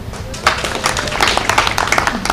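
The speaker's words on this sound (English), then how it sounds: "You can see even you are clapping more." An audience claps at a school results ceremony celebrating top achievers, a brief burst of uneven clapping with a voice over it.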